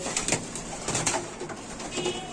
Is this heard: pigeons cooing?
yes